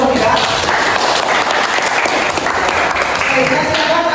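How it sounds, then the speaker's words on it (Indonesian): Steady, loud audience applause fills a teacher-training session hall, a continuous wash of many hands clapping that holds evenly throughout without a break. "Tepuk tangan dulu untuk kita."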